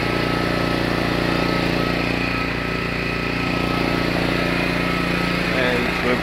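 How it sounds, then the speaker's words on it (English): A 2000 watt inverter generator running steadily nearby, a constant engine hum with no breaks, loud and even throughout. "Generator is working."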